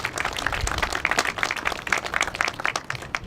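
Scattered audience clapping at an outdoor dedication ceremony for a skate plaza in Hempstead Village, a short, uneven burst of hands with individual claps standing out.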